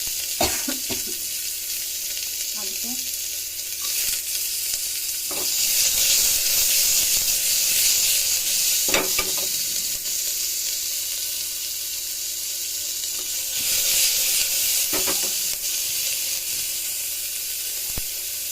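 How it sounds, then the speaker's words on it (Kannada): Onion frying in a pan, a steady close sizzle and hiss that swells and fades across the clip, broken by a few sharp clinks and scrapes of a spoon stirring against the metal. "ಇವಾಗ ಆನಿಯನ್ ಹಾಕ್ತಾಯಿದ್ದೀನಿ."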